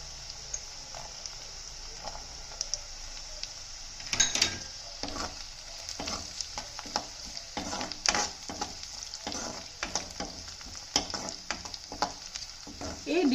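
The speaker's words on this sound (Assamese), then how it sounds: "এতিয়া মই নহৰুখিনি দি দিম" Garlic hitting hot oil in a pan while cooking prawns at low flame, a steady close sizzle and fry with scattered crackles and occasional stirring scrapes throughout.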